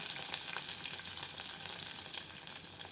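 Onion, green chillies, mustard seeds and curry leaves fry in a pan with a soft, steady sizzle and faint crackles, fairly quiet and uninterrupted.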